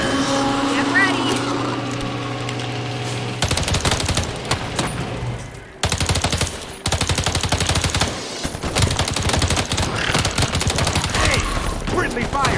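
Heavy automatic gunfire in the video game EarthFall, including friendly fire, comes in long, loud, close bursts with a brief break partway through, over a low steady game hum and faint game voices.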